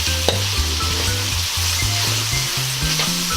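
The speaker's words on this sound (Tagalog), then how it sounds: "Tapos hahaluin na naman natin." Pork with ampalaya and tomato stirred in a frying pan, a loud close sizzle under repeated scraping strokes of a utensil against the pan in an uneven rhythm.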